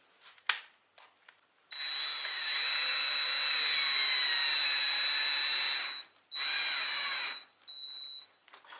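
A power drill drives a plain yellow self-tapping screw into an aerated concrete block: a loud, steady high whine lasting several seconds, a short pause, then a second briefer burst, with a few clicks and taps before and after.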